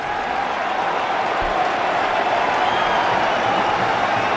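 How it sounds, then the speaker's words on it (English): Applause from a stadium crowd at a one-day international cricket match between India and Pakistan, a steady, dense wash of distant clapping that holds evenly throughout. "Nice round of applause."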